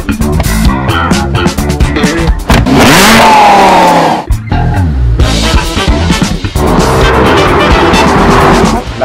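Italian police Lamborghini patrol car revs hard and loud, with repeated surging engine bursts, rising accelerations and brief tire-squeal-like whines throughout, no voices.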